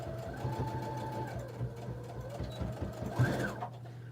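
A sewing machine stitches a quilted cell phone pouch, its close, steady mechanical whir running in short continuous bursts with brief pauses between.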